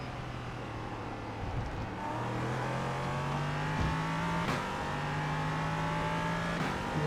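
A race car engine in iRacing at Atlanta holds a steady high drone at speed along the straight, with a brief dip before rising and settling into a sustained even roar.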